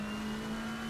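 McLaren race cars in a sim racing broadcast at Imola give a steady, sustained engine drone at high revs, loud and continuous, with no talking.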